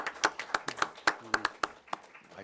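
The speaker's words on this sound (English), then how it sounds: "Now you clap." A small group at a county commissioners' board meeting claps briefly, a dozen or so distinct, sparse hand claps ringing out at an uneven pace in a quiet room.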